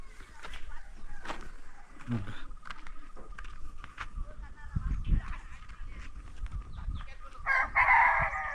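Chickens cluck and a rooster crows in a Konkan village yard, loud and close, with scattered calls and a strong crow near the end, while people talk intermittently.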